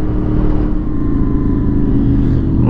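A motorcycle engine climbs the Tourmalet mountain pass in misty weather, with a loud, steady, close drone and slight shifts in revs throughout.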